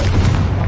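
A Confringo explosive spell going off in Hogwarts Legacy, a loud, close, dense low boom that fills the whole short moment.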